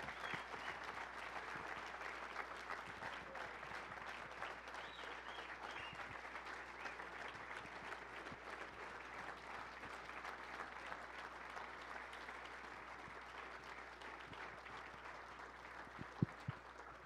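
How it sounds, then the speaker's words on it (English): An audience applauds a New Mexico High School Coaches Hall of Honor inductee at an awards show, with dense, sustained clapping from a large crowd that stays steady throughout and carries no speech. "big round of applause for Matt Martinez"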